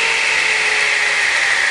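Table saw motor spinning up in a workshop, a loud, steady broadband whir with a bright mechanical hiss that holds evenly for the whole moment, no voices.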